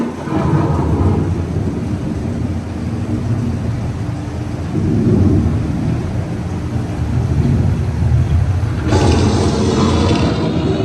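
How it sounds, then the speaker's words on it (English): A simulated ocean thunderstorm on Epcot's Living with the Land boat ride rumbles with loud, steady rain and deep rolling thunder, and a brighter crash of wind and water swells near the end. "The ocean storm may seem violent and disruptive to us"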